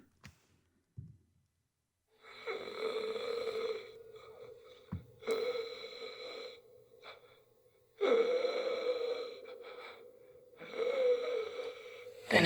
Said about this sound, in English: I'm going to bring down his breathing